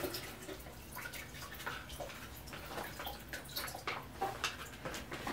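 Water splashes and trickles back into a container from a 1-liter bladder in uneven bursts, with drips and gurgles close by and no talking.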